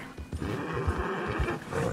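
A horse in the video game Red Dead Redemption 2 gives a loud, close whinny with snorting and breathy low tones, rising and falling over a couple of seconds.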